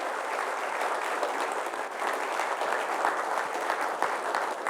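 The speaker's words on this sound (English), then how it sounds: "Let's give a big round of applause to ourselves first" A seated audience at a business talk claps in a dense, sustained round of applause that holds at an even level from start to finish, with no speech over it.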